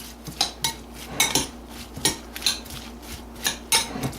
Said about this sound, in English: I'm going to bring over this cabbage. We're going to stir this all together.